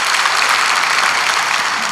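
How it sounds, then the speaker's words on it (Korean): A church congregation at a worship service claps together in a dense, loud burst of applause, steady and uninterrupted throughout. "그것도 박수 한번 쳐주십시오."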